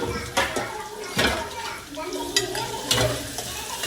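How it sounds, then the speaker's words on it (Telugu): Onions frying in hot oil for a goat head curry, with a sizzle under repeated scraping and stirring strokes of a spoon against the pan, and a voice talking over it. "ఆనియన్స్ కొంచెం గోల్డెన్ కలర్ వచ్చే వరకు ఫ్రై చేసుకోండి."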